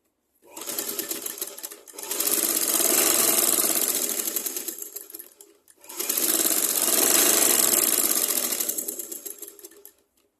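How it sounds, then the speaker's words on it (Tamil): A sewing machine stitches the folded one-inch bottom hem of a petticoat in two long, loud, steady runs of rapid needle clatter, separated by a brief pause. "இப்போ கீழ் ஓரத்தை மடித்து அடிச்சிடணும் 1 இன்ச்சு அளவுக்கு."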